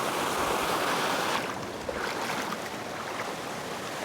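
Water flowing steadily at a stream crossing on a forest road, a continuous rushing wash that stays fairly loud and even throughout with no voices.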